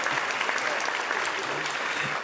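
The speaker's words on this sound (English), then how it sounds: "that deserves an applause." Steady, dense applause from an awards-ceremony audience, loud and continuous throughout with no talking over it.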